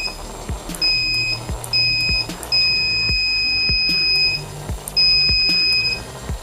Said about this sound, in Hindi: ये ऑटोमेटिक हमारे प्लेटफॉर्म पर अलार्म बजा देगा, मतलब कि वायरलेस अलार्म बजा देगा